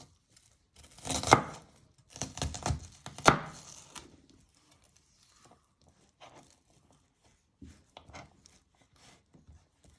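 A knife chops through beef on a cutting board in several sharp bursts of close, crisp strokes, then a pause followed by a few scattered lighter cuts.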